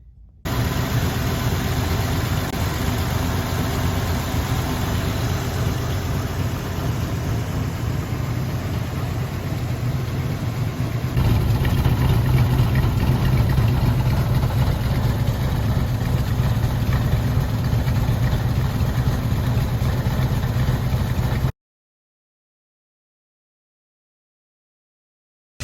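A 1959 Corvette barn find, running on fresh high-octane fuel, idles with a steady, close, rumbling engine note that holds for about twenty seconds, swelling slightly partway through, before cutting to silence.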